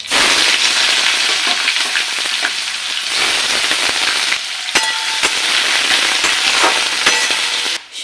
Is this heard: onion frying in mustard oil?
yes